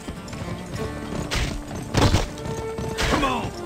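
Hooves of a galloping horse thud in the Western video game GUN, with heavy irregular impacts and a few louder thumps against a game backdrop.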